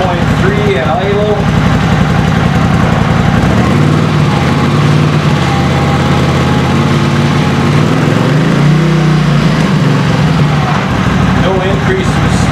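A Honda CX500 motorcycle engine idling on first start, a steady, loud, close drone throughout whose tone shifts and rises slightly mid-way, with some talking over it.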